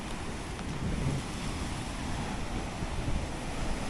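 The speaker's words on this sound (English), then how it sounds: "the rocks kind of break the heavy waves" Heavy waves breaking against rocks at Turtle Bay Cove beach in Portland, Jamaica, heard as a dense, continuous roar of surf mixed with wind rumble, moderately loud and steady with no voices.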